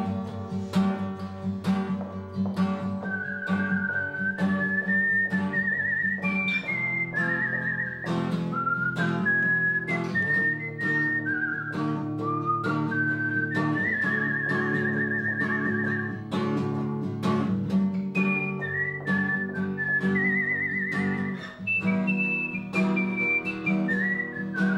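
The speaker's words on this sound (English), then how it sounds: "I'm always ready to whistle." A single person whistles a melodic tune with bright, sliding pitches over steady accompanying music, loud and close throughout with no talking.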